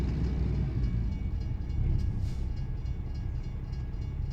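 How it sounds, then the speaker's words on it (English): A train rolls past a crossing in American Truck Simulator, a steady, loud low rumble of rail cars that holds evenly throughout with no voices. "Oh, there's a train crossing."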